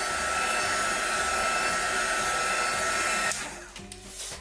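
A heat gun drying Distress Oxide ink on a paper bookmark, a steady loud blowing roar for about three seconds that then cuts off, leaving a few faint handling sounds.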